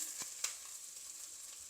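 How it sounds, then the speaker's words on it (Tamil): Sliced big onion sautéing in a pan for veg biryani, a faint steady sizzle with a couple of soft stirring clicks near the start. "அதை நல்லா வதக்குறோம்"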